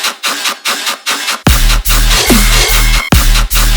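Heavy dubstep riddim bass synth with its LFO set to a quarter-note rate, a loud, dense, distorted growl pulsing in steady wobbles, with a sharp drop in intensity partway through.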